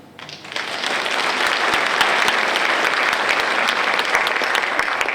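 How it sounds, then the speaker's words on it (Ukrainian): An audience claps together at a charity concert by a Ukrainian vocal ensemble, the applause swelling from a few hands into a dense, steady roar that fills the hall. "Співаємо і плескаємо разом."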